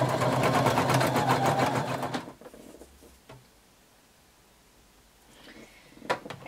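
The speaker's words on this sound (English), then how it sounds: "you're going to overlap your elastic by 5/8 of an inch, and you're going to stitch it together" A sewing machine stitches overlapped swimsuit elastic together in a close, rapid, even burst of about two seconds, then goes quiet with a few faint handling clicks afterward.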